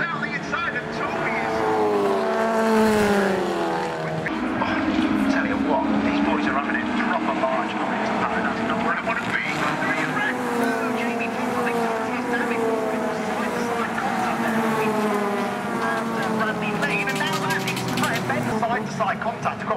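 NGTC touring cars race at the Brands Hatch circuit, engines rising and falling in pitch as they pass, heard steadily beneath continuous excited commentary.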